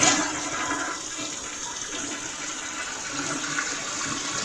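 A hall bathroom toilet flushes during a plumbing flow test at a house, a steady, loud rushing of water that carries on through the whole stretch with no talking.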